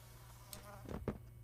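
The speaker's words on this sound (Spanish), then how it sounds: "Hay una mosca, weón! ¿Escucharon?" A fly buzzes in the video game Poppy Playtime, a faint insect drone over a low background hum, with a couple of brief louder buzzing passes near the end.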